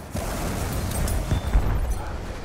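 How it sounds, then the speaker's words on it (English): A grenade explodes in Battlefield 1: a muffled, booming blast with a deep rumbling low end lasts a couple of seconds, heard at moderate distance amid game ambience. "Toss a grenade. Might get a hit."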